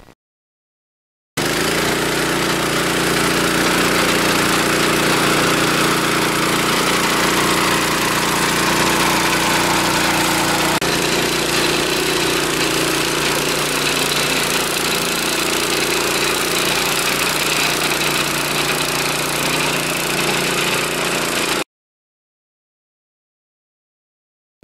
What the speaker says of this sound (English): This is a sod cutting machine